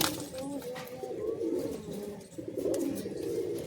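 Pigeons coo and murmur steadily inside a loft in Bagnan, a soft continuous flock sound with a voice talking faintly underneath.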